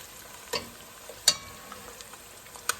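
Panch phoron five-spice seeds and garam masala sizzle in hot oil for a Bengali pangas fish and duck curry, a faint steady frying hiss broken by a few sharp pops and clinks.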